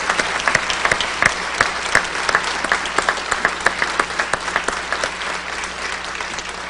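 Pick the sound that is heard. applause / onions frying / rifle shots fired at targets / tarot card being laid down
applause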